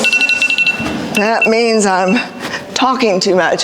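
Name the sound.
alarm going off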